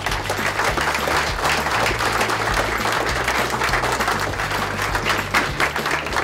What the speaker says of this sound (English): So I think you should deserve a special round of applause for that.